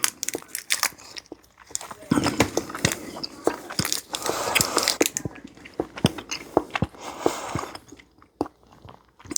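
Someone chews Zappo fruit chews, blue raspberry and watermelon candies, close to the mic, with irregular wet squishing and biting sounds and brief pauses.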